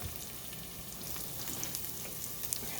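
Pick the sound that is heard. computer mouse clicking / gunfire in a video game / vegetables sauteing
vegetables sauteing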